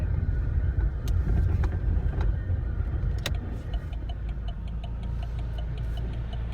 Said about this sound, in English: That's a very large tow truck to be going up 46th Street.